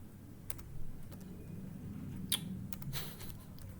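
Computer keyboard clicks in scattered, irregular taps, faint and fairly close over a low background hum, with one sharper click near the middle.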